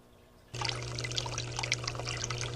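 After a quiet moment, water abruptly starts rushing through a gold prospecting sluice and keeps up a steady, close trickling and pouring stream.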